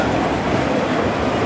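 A long freight train with autoracks rolls past at close range, a steady loud rumble of wheels and cars that holds without a break.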